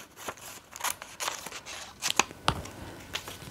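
Scissors cutting out paper pictures: several close, crisp snips and crunchy paper rustles that come at an uneven pace, alone without speech.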